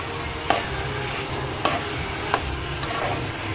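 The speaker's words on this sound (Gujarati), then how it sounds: "હવે ગેસને છે ને મીડિયમ રાખીને આપણે ધીમા તાપે આને ઘીમાં પહેલાં સરસ મજાની દૂધીને શેકી લેશું." Grated bottle gourd roasting in ghee is stirred in a pan over medium-low heat, with a steady soft sizzle and a few sharp spoon scrapes against the pan.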